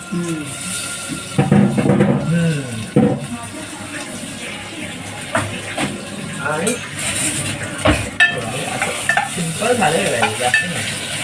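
Ginger-garlic paste hitting hot oil in a pan for a peas rice dish, sizzling and crackling loudly in bursts with stirring scrapes, while a person talks over it.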